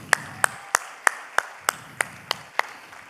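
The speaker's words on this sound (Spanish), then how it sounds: "quiero darles otro aplauso muy fuerte" Single pair of hands clapping at a cultural event, nine sharp, evenly spaced claps in a slow steady rhythm, close and distinct over a faint background.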